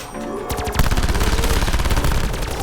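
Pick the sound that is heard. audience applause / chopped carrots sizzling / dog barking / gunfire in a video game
gunfire in a video game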